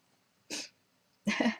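A person blows their nose in two short, breathy bursts close by, the second longer and louder than the first.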